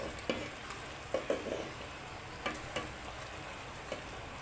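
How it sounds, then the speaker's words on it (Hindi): Ridge gourd tossed into hot oil for a chicken curry, giving a soft steady sizzle with scattered scraping clicks from a spoon stirring the pan, fairly quiet with no talk. "ऑयल आने के बाद आपने इसमें तोरी डालनी है।"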